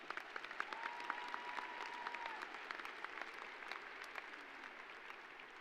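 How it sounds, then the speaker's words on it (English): A large commencement crowd applauds the stage party with a steady, dense wash of clapping that runs evenly throughout and tapers slightly at the end, moderately distant. "Can we give all of the stage party a round of applause?"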